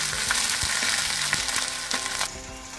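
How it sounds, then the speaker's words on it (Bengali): Whole cumin and ginger paste sizzle in hot oil, a dense crackling fry with stirring scrapes and small clicks, close and steady, easing slightly near the end. "আর গোটা জিরে আমি ফোড়নে দিয়ে দিলাম। একটু নাড়াচাড়া করে এতে দিলাম আদা বাটা।"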